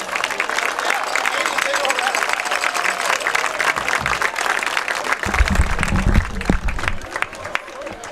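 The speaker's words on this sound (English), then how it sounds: "let's give your West Rome Senior Fall athletes a big round of applause" Stadium crowd at a high school football senior night applauding senior fall athletes, steady broadband clapping and cheering throughout, with a low rumble swelling near the end as the crowd noise builds.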